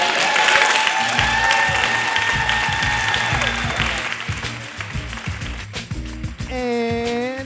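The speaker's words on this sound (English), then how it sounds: "You gotta keep clapping. Keep clapping. Keep it up." Audience applauds at the close of a live improv comedy show in downtown Los Angeles, a dense steady wash of clapping with music and a voice over it, thinning slightly near the end.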